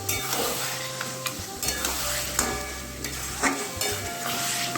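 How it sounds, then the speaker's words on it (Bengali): Mutton stir-fried in a pan with spiced oil, a close, steady sizzle under repeated scraping and clinking strokes of a spatula against the metal, with no one speaking. "এবার আমি এই যে মটনটা দিয়ে দেবো খুব ভালোভাবে মটনটাকেও কষাবো আমি"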